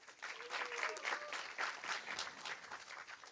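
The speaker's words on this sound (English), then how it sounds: "A huge round of applause for her." Applause from a debate-show audience, a steady patter of clapping from many hands that lasts several seconds at moderate loudness with no voices over it.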